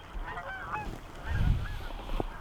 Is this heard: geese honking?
yes